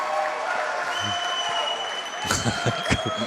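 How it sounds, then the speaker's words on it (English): Applause at a college basketball celebration as the coach cuts the last loop of the net, with steady crowd clapping and cheering that swells into louder bursts near the end under a talking announcer. "you'll see another round of applause"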